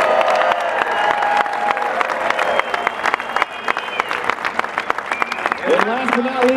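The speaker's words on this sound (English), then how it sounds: "please give a big round of applause for Enrique Ruiz." Applause with cheering from an audience at the 2019 Pickleball Hall of Fame induction ceremony, steady dense clapping throughout with a few shouts and whistles rising near the end.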